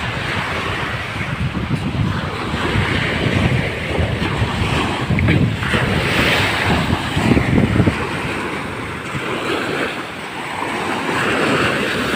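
Wind and surf from a stormy sea, rough enough to keep fishing boats ashore, roar steadily and close throughout, with gusty wind buffeting the microphone and no voices.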